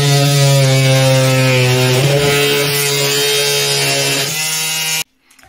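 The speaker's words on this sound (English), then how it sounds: "We'll be sliding it right here in the middle and only cut the wood dowel." An Einhell Varrito cordless multitool cuts through a wooden dowel with a loud, steady buzzing motor whine that shifts slightly in pitch midway, then cuts off abruptly near the end.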